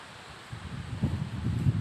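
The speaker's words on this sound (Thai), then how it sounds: "ลมเย็น โชยเลยอะเห็นไหม ลมพัดป่าปาม" Cool wind blowing through a palm grove in fair weather, a low steady rush that swells and gusts after a quiet start, with rustling close to the microphone and no talking.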